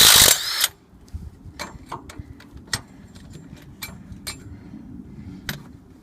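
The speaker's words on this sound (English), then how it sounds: "There are four bolts under that plate, and what I'll do is I'll go ahead and take those out." Four bolts being removed from under a suspension plate on a Nissan car with a Suspension Enhancement System: after a brief loud burst at the start, a run of sharp metallic clicks and ratchet-like ticks sounds close and moderately loud over a low background rumble.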